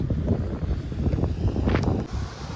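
Strong wind on an island by the sea buffets the microphone with a continuous low roar and rumble, loud and unbroken, with no voices.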